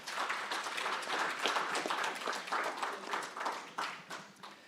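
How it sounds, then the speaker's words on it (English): An audience at an economic forum applauding panelists, dense clapping sustained throughout and gradually tapering off toward the end. "Please, a round of applause for our panelists."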